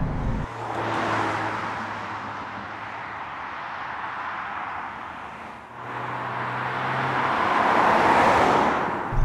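A 2018 Kia Stinger GT2 AWD heard from inside while driving, a steady broad engine and road roar that dips briefly then swells again as it accelerates, with no talk over it.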